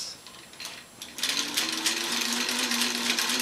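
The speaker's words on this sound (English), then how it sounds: "To me, it's already sounding smoother, just as I do a little bit more stitching." A 15-91 sewing machine stitching steadily, running with an even, whirring mechanical hum that builds up after a brief start and holds close and clear, with no one talking.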